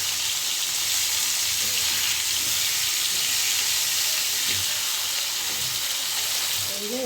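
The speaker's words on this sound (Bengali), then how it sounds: "এদিকে মাছের তরকারির জন্য মাছ ভেজে নিচ্ছি" Fish frying in its own oil on a stove, a loud continuous hiss and sizzle close by with scattered pops, steady throughout with no talking.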